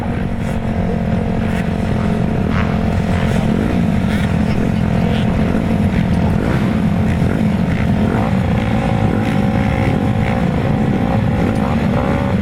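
Grasstrack racing motorcycles rev on the start line at a championship meeting, a loud continuous roar of several engines blending into a dense drone with rising throttle blips, close and unbroken.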